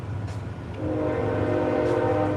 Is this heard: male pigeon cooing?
no